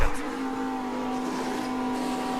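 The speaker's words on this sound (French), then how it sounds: "Le moteur Honda." Formula 1 race car with a Honda engine, a steady high-pitched engine whine holding a sustained tone for the whole moment, loud and continuous.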